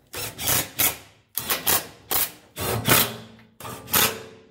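A power tool, probably an impact gun, runs up driveshaft bolts on a 2006 Subaru B9 Tribeca in five close, loud bursts of whirring and rattling, each broken by short pauses.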